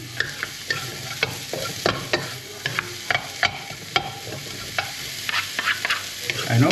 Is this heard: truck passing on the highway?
no